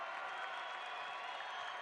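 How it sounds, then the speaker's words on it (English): Arena crowd noise at an Alta vs Timpview boys high school basketball game, a steady, dense wash of cheering and clapping that holds evenly for about two seconds with no break. "Now does the crowd get a little more boisterous?"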